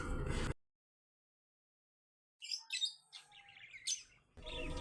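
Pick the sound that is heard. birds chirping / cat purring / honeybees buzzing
birds chirping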